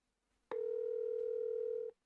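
A steady telephone dial tone sounds loud and alone for about a second and a half after a brief faint start, then cuts off cleanly.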